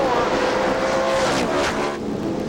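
NASCAR stock cars racing out of turn 4 at Bristol in 1996, an engine roar sweeping past with a rising then falling whine, heard at a moderate distance through a dull, muffled old broadcast.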